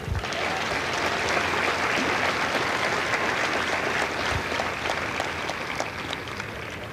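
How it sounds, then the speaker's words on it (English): A large crowd at a Marine Corps recruit graduation at MCRD San Diego applauds the recruiters, with loud, dense, continuous clapping that holds steady for several seconds. "So a round of applause for the recruiters"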